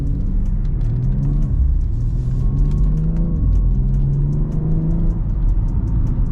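A BMW X3 M in Sport Plus mode drives along with a steady low engine drone and road rumble, rising and falling gently with throttle, heard from inside the cabin.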